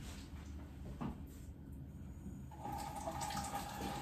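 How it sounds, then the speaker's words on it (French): A household tap runs while a cat tries to drink from it. A thin, steady stream of water is heard indoors, with a faint knock and a thin steady whine that comes in partway through. "j'ai un chat qui veut boire au robinet"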